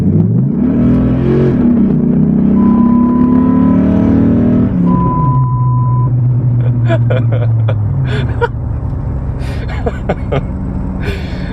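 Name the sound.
modified Dodge Ram SRT-10 V10 Viper truck, 30 roll acceleration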